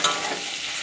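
Fish heads fry in a pan, giving a brief, steady hiss and sizzle close up, with no voices.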